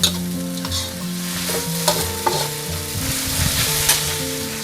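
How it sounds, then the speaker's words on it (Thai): Carrots stir-fried with glass noodles in a hot pan, a dense close sizzle broken by regular scraping strokes of the spatula and a low hum underneath; no voices. "เราก็ใส่แครอท เราก็ผัดให้แครอทของเราสุก"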